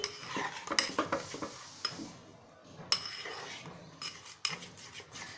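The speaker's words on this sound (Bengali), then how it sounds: "এবার ভালোভাবে এটাকে মিক্স করে দিচ্ছি" Mug cake batter is mixed in a cup with a spoon, giving quick, close, irregular scraping and clinking strokes at modest loudness, with a brief pause midway and no talking.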